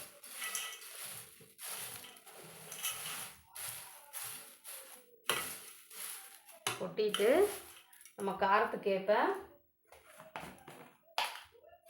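Fried chana dal, curry leaves and other crunchy snack-mixture ingredients are tossed together in a bowl, making repeated close rattles and clinks of utensil on dish, with a voice talking briefly partway through.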